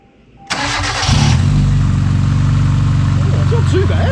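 A Hyundai Getz track car fitted with race extractors cranks and fires into a loud, rough idle that settles into a steady, throaty rumble close by, with no one speaking over it.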